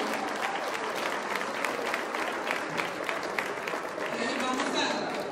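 Sustained audience applause for Father Franco Cecchini at a Houston, Texas gathering, a dense, even clapping that carries on for several seconds with crowd chatter and a voice rising beneath it toward the end.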